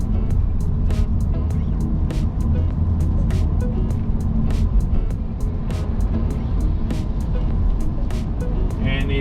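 BMW 1 Series car cruising on a slippery morning road to a car meet at Janda Baik, a loud, steady low engine and road rumble heard from inside the cabin, with faint regular ticks running through it.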